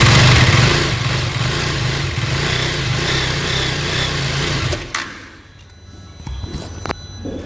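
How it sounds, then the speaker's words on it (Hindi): A KTM Duke 250 motorcycle engine idles with a steady, buzzy, loud thrum close by, then abruptly drops away near the end, leaving a quieter background with a few faint clicks. "तो ये थी ड्यूक 250 की आवाज़।"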